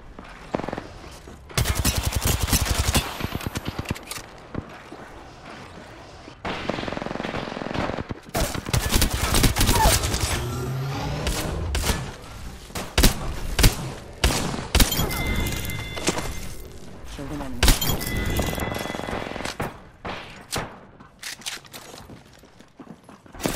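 A shooter video game unloads dense, loud automatic gunfire in repeated bursts, broken by sharp booms and a thermite grenade blast, with shield-recharge tones and clattering effects filling nearly the whole stretch.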